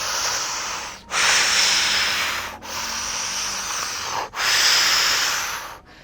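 Continuous deep Wim Hof-style breathing, loud and close: long rushing inhales and exhales flow into one another with only a brief dip between each, about four breaths in a steady rhythm, no talking.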